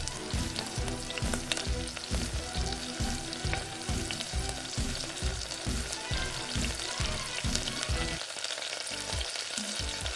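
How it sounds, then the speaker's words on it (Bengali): Chicken pieces for chili chicken fry in oil over medium heat with a loud, continuous sizzle, and a rhythmic stirring pulse runs through it as they are turned. The sound fades briefly near the end, and no one talks. "উল্টে পাল্টে সোনালি গোল্ডেন কালার আসা পর্যন্ত ভাজতে থাকুন"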